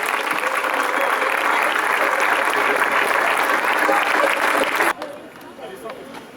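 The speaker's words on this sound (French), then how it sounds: "Vous pouvez applaudir quand même, ça." A ceremony crowd claps for Victor Muffat-Jeandet's bronze medal in the combined, a thick, loud wash of applause that cuts off abruptly near the end, leaving a quieter murmur.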